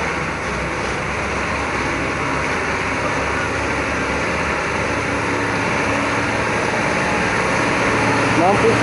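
An orange Hino-type A6x4 HD 220 PS heavy coal truck hauling about 33 tons of coal powers up, its engine a steady, loud, broadband drone that builds slightly toward the end, with no clear speech over it.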